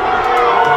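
Football fans in the stands at a varsity high school game cheer and shout in a dense, loud crowd roar, a brief continuous burst with no clear single voice.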